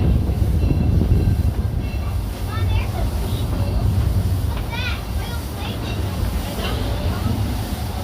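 Amusement park train at Cedar Point rumbling along with a steady rolling roar and clatter, close and fairly loud, with people talking and faint high squeals or chirps drifting above it.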